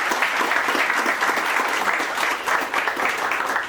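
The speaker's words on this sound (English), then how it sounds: "Let's give them a warm round of applause" Warm, steady applause from an audience at an alumni celebration for a tech hub, with dense, continuous clapping that stays loud and even throughout and no talking over it.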